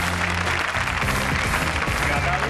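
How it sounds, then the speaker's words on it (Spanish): Audience applause at a welcoming ceremony, a steady dense wash of many hands clapping with voices and music-like tones underneath throughout. "Un aplauso para Natalia."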